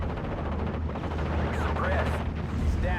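Dense, continuous battle din from Steel Division: Normandy 44 as an airborne bazooka round strikes the side of a Panzer IV tank, with rumbling impacts and crackling gunfire blended under a speaking voice.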